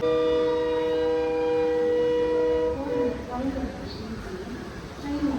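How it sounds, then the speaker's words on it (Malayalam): A Coimbatore–Shoranur MEMU train pulls in at a platform, a loud sustained horn blast for nearly three seconds giving way to rumbling wheels and station noise, with a voice talking over it. "3ാമത്തെ പ്ലാറ്റ്ഫോമിൽ കോയമ്പത്തൂർ ഷൊർണൂർ മെമ്മു വന്ന് കയറിയിരിക്കുകയാണ്"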